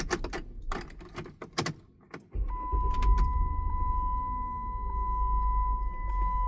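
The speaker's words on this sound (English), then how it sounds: "So let me cycle the key." Ignition key cycled on a Chrysler Town and Country minivan: several sharp clicks and a jangle of keys, then the electrical system comes on with a steady electronic tone over a low hum, heard close up inside the cabin.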